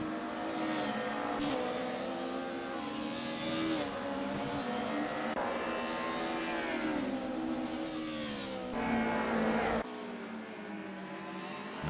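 Race cars in a DTM sim racing event at Hockenheimring scream past in a tight pack, engines revving and shifting continuously with high, loud whines and occasional tire squeal, no talk heard.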